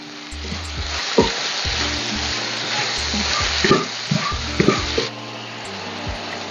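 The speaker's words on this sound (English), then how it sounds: "So at this stage I'm going to add tomatoes." Four small tomatoes hit hot oil in a pan for kadai paneer, giving a loud close sizzle with stirring scrapes and knocks, while background music plays underneath.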